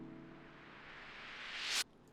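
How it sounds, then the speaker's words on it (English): A plain riser effect from the Potions hyperpop drum kit: a noise sweep climbs steadily for under two seconds and cuts off sharply, leaving only a faint hiss with no voices. "And then I have this plain riser right here that sounds like this."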